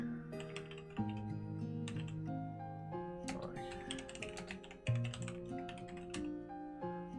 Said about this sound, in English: I'm typing it up right now.